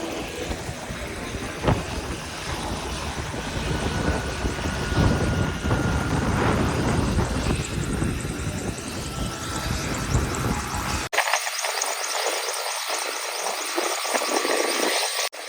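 Steady, loud helicopter engine and rotor roar heard from inside the cabin during a ride, continuous for most of the stretch before cutting abruptly to a thinner, muffled engine hum near the end.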